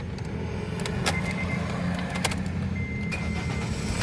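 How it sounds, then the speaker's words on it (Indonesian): Honda Brio Satya 1.2 E manual, a 2017 hatchback, starts up with a short cranking burst followed by a steady low idle rumble inside the cabin, with faint clicks and rattles on top. "coba kita nyalakan mesinnya"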